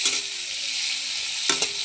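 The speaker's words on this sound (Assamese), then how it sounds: "এতিয়া মই বিলাহীখিনি লেৰেলি যোৱালৈকে অকণমান সময় ভাজি ল'ম" Tomatoes sizzle steadily in a hot pan with turmeric and salt, a continuous close hiss broken by a few brief stirring scrapes near the end.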